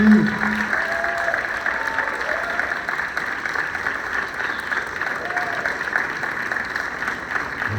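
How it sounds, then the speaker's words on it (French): A school prize ceremony audience applauds the second-prize winner, a dense, steady round of clapping from a hall crowd lasting the whole stretch, with faint voices in the background. "Et bien on l'applaudit."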